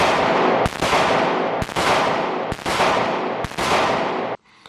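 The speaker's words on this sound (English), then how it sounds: "I take 5 shots, right? Those 5 shots are as fast as I can be accurate." Five handgun shots fired rapidly in close succession during defensive pistol training, each a sharp loud crack with a short ringing tail, evenly spaced.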